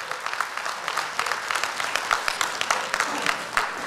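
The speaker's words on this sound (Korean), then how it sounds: "박수 한번 주세요" A church congregation gives a round of applause during a worship service, a fairly quiet patter of many hands clapping steadily with some mixed voices underneath.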